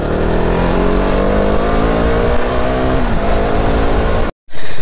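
A KTM Duke BS4 motorcycle engine drones loudly and steadily while riding, with a continuous close exhaust roar that cuts out abruptly near the end.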